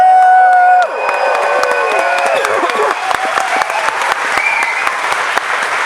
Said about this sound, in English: why don't we cheer Simon, get well soon?